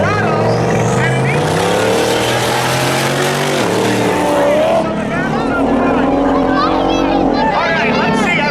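Race cars, a Corvette and a Chevrolet Colorado, roar at Hudson Speedway with loud sustained engine drone and rising revs, a pass sweeping by near the middle, while an announcer talks over the noise throughout.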